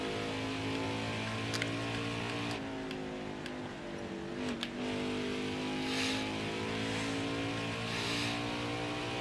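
A stock car circling Phoenix in a racing video game, its engine a steady sustained drone with slight pitch shifts through the corners, continuous and even with no voices.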